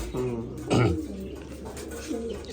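A pair of pet pigeons in a loft, one a pink-crested hen, give low cooing calls near the start and again toward the end, with a brief cough-like burst between them over faint background hum.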